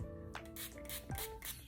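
Revitalizer being sprayed from a bottle onto a kinky curly hair closure, several short hissing spritzes in quick succession, close and fairly loud.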